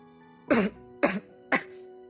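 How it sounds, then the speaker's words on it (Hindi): A narrator's voice performs three short, sharp coughs in an audiobook reading, spaced about half a second apart, close and clear with no speech. "उसके सवाल पर ध्रुव को एकदम से खांसी आ गई"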